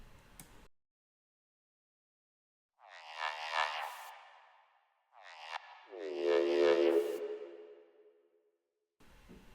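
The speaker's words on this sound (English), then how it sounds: "And we can give it some reverb." Synthesized tones from a drum and bass track in three bursts separated by silence, each with a swelling, ringing tail that lingers and fades like heavy reverb.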